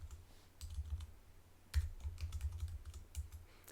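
Someone types quickly on a computer keyboard. The crisp, close keystrokes come in uneven clusters, with a sharper clack partway through and no voices.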